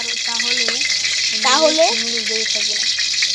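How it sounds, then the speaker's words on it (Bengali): Noodles fry in oil in a wok while being stirred, a steady sizzling hiss with scraping under it, and a voice is heard briefly over the cooking. "এখন আমরা কড়াইটি 2 হাতা ধরে লাড়িয়ে নিব, লাড়াচাড়া করব।"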